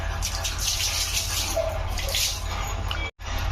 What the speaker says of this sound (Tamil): நம்ம சிங்கில் டேபு திறந்து விட்டு இப்படி வாஷ் பண்ணோன்னா இது வந்துடும்.